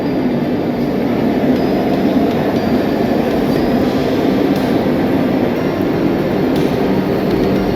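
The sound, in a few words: Somnath-Sabarmati Vande Bharat Express train on its maiden journey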